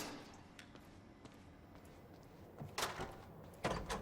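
A door opening in the Quantum Break video game, with two short knocking, clunking hits late in the clip over a quiet, steady room background.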